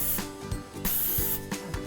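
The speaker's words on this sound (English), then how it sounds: "I'm going to spray some non-stick spray on each mold" Non-stick cooking spray hisses onto the molds of a muffin tin in several short bursts, each a close, breathy spray, with faint clicks from the can's nozzle between them.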